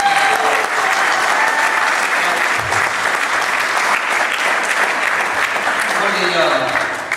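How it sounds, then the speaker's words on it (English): Dense, loud applause from a room of campaign supporters at an endorsement event, a continuous wash of clapping that holds steady and close for several seconds with faint crowd noise mixed in. "Round of applause to all of you."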